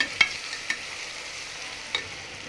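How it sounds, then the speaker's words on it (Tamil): Ginger garlic paste sautéing in a pan, a low steady sizzle broken by three sharp spatula clicks against the metal, quiet and with no voices. "நல்லா பச்சை வாடை போகிறதுக்கு ஒரு அஞ்சு நிமிஷம் வதக்கி விடுவோம்"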